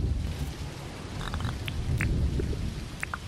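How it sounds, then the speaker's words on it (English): Steady rain falling in the Animal Crossing video game, a continuous hiss of drops with low rumbling beneath and a few faint light plinks on top. "We just got to sleep out in the rain, man."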